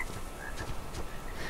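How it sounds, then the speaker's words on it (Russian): Frog croaking in the game ARK: Survival Evolved, a few short faint calls repeating over a steady ambient game background, with no one talking. "Где-то квакает."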